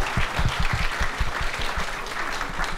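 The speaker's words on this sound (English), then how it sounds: "A round of applause for Yui Gang, please." An indoor audience at an artist talk claps steadily, a dense close round of applause lasting throughout.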